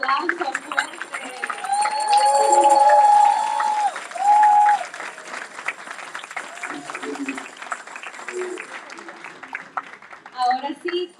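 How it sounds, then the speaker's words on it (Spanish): A crowd at a summit gathering on religious freedom in Cuba applauds loudly, with voices shouting and cheering over the clapping before the noise settles to a lower murmur. "Un aplauso fuerte."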